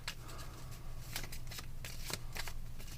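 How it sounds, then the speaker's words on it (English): A deck of playing cards is shuffled close up, a steady papery riffle with repeated sharp flicks and slaps of the cards over about three seconds, with no talk. "So now we got a nice shuffled deck here."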